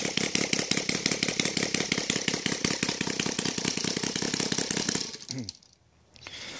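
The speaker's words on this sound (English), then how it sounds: "So this is the way this engine runs" A Saito R200 radial model engine with CH ignition, running on gasoline, rattles at a steady fast beat close by and fairly loud for about five seconds, then cuts out and falls silent before a low hum resumes.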